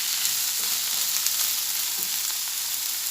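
Onion and peppers stir-fried in a pan, a steady bright sizzle up close with soft stirring bumps and no talk.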